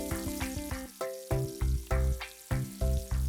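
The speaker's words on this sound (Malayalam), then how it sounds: "അടി കട്ടിയുള്ള ഒരു ചട്ടി അടുപ്പിൽ വെച്ച് ചൂടാകുമ്പോൾ അമുലിന്റെ നെയ്യ് ചേർക്കുക. ഇതിലേക്ക് ചരുകി വെച്ചിരിക്കുന്ന ക്യാരറ്റ് ചേർക്കുക." Grated carrot fries in Amul ghee in a heavy-bottomed pan on the stove, giving a soft close sizzle broken by a quick series of stirring knocks and scrapes, no voices.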